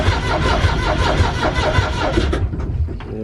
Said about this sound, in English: Now this engine doesn't actually have glow plugs. It's just a diesel engine, 3-pot